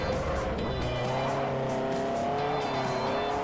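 A 118 car's engine revs loud and steady in Forza Motorsport 4, a continuous raspy drone with sustained pitch changes and some tire squeal mixed in.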